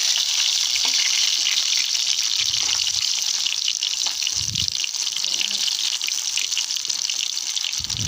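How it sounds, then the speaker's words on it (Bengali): Pumpkin flowers fry in a pan with a loud, unbroken hissing sizzle and occasional low thumps from stirring, heard up close. "ওটাকে লাল করে ভেজে নেব।"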